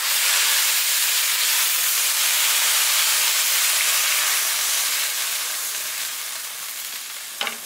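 Water poured into a hot wok of browned pork ribs on a wood-fired stove sends up a loud, steady hiss of steam that slowly fades, ending with a brief knock.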